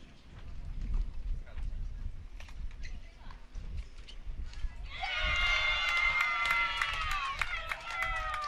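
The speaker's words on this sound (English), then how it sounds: "Big cheer for Audrey Yoon as she wins another one of these long extended points on court 3." Crowd cheering and applause rise at a college women's tennis championship match, NCAA Division III, on an outdoor court, following rally sounds and footsteps; a commentator talks over it.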